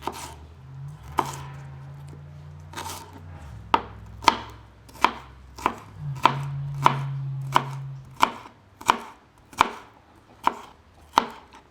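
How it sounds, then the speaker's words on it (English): A knife finely chops jalapeno on a cutting board in a steady series of sharp, close taps, slow at first and then quickening into an even rhythm, with no talking. "And then we're just going to finely chop this."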